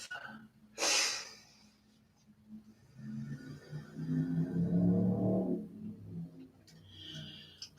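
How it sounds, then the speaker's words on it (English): A single slow, deep inhale and exhale taken during a guided breathing practice, soft and close with a gentle airy rush, rising and falling over several seconds in a quiet room. "take a deep and clearing breath"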